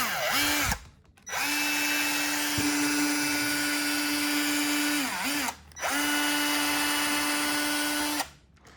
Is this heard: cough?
no